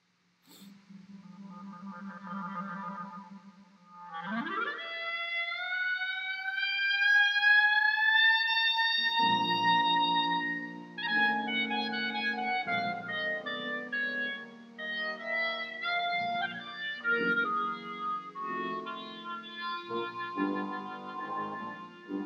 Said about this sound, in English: Rhapsody in Blue, the very famous opening to the Rhapsody, is of course the clarinet solo.